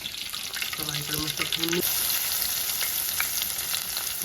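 Potatoes frying in a pan with garlic and chili, a constant close sizzling hiss, with a brief voice heard early on.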